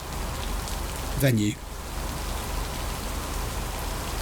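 Steady rain patters on surfaces in the video game Lake, a constant hiss that runs the whole time, with a short burst of speech partway through.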